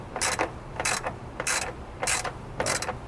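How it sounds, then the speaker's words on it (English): Ratcheting wrench tightening the battery terminal on a Ram 1500, five quick bursts of dry clicking in a steady back-and-forth rhythm, close and clear with no talk. "But going for super tight here just until the wrench stops."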